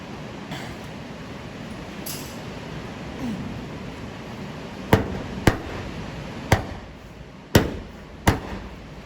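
A ball peen hammer taps old Thunderbird hood letters into place on a 1964 Thunderbird hood, five sharp separate knocks spaced about a second apart over a low steady background hum.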